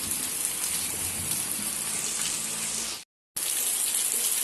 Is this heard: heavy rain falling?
yes